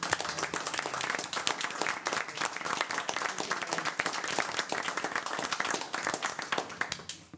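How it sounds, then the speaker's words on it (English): A round of applause fills a Waupaca city council meeting, steady dense clapping from many hands in the room, holding at an even level for several seconds before tapering off at the end. "I think he deserves a nice round of applause"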